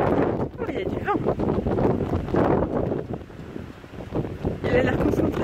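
Wind gusts outdoors buffet the microphone with a constant loud, low rumbling roar, and a voice comes through at times.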